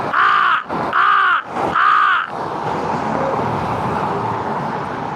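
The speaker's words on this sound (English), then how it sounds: "But my other crow buddy is still up here." A crow gives three loud, harsh caws in quick succession from close by beside an eastbound roadway, followed by a steady hum of passing traffic.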